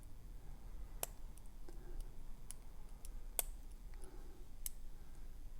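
Small, faint clicks sound intermittently as custom lockpicks work the pins of a lock, a few sharp ticks spaced irregularly over low background hiss, with no talking.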